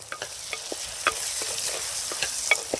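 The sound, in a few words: tomatoes and cashews sautéing in the pan for brinjal gravy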